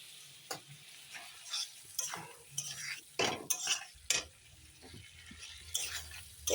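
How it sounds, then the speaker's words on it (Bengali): Fish seasoned with turmeric and salt fries in oil, giving a soft sizzle broken by repeated scraping and stirring clinks of a utensil against the pan. "একটু ভাজা ভাজা হলে"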